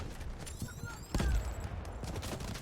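Sniper gunfire in the video game Delta Force Hawk Ops: a single sharp distant crack stands out midway against a busy battlefield background, with scattered other shots around it.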